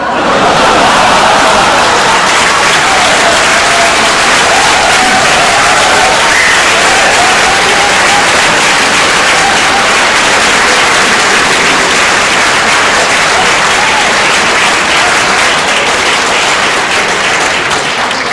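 Sustained loud audience applause at a magic show fills the whole stretch, dense and steady with a faint crowd murmur underneath.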